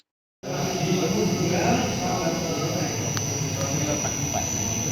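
A three-phase AC motor runs on a variable frequency drive set to 40 Hz, giving a steady, loud whirring drone with a constant high electrical whine that starts abruptly and holds unchanged.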